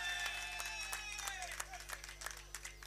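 Scattered clapping from a crowd at a prize ceremony for a Masters 40+ rainy season cricket tournament, sharp uneven claps rising and falling over a steady low hum, fairly distant and faint.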